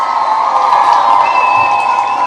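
Audience cheering and shouting for an NBC reporter, a loud, continuous roar of crowd voices with whoops.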